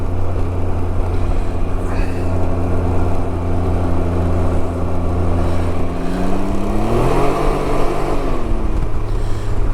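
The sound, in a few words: Can-Am Ryker engine revving with a hesitation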